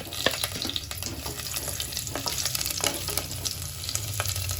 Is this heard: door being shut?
no